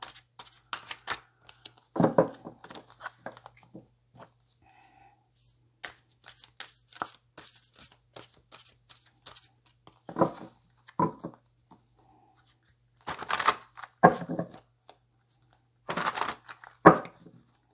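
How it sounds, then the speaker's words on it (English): Tarot cards shuffled by hand during a love tarot reading: short, crisp riffling and sliding bursts come in scattered clusters separated by quiet pauses, close and fairly soft. "let's get this shuffle"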